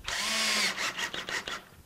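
A power drill whirs as it drives a fastener through styrofoam insulation on a wall, first in one sustained run and then in a few short stuttering pulses, heard up close.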